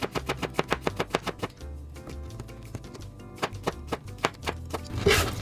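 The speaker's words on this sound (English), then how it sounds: "Slice it into thin rounds." A knife slices a cucumber into thin rounds on a cutting board, producing a quick, steady run of crisp taps with a brief pause midway, close and clear with no voices.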